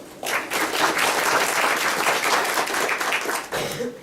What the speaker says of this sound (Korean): 권순용 본부장님, 박수 부탁드립니다.